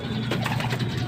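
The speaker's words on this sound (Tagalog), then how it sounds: "Nandito na naman po tayo sa ating mga alagang" Pet pigeons coo in a low, steady, close murmur over a short stretch, with the soft throaty warble continuing without pause.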